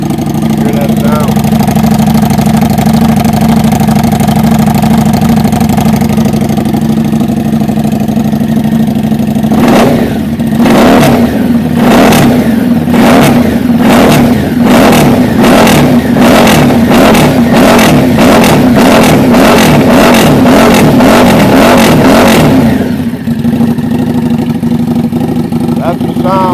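Harley-Davidson Street 750 motorcycle idling with a steady low rumble, then revved in a long series of sharp, regular throttle blips before settling back to idle; loud and close.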